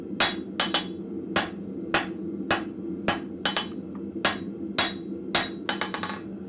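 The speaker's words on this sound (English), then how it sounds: "Trying to stretch these nibs out to 4 inches, which just happens to be the width of my anvil." A blacksmith hammers steel nibs on an anvil to stretch them, a close series of sharp ringing blows at an uneven rhythm, some in quick doubles, over a low forge hum.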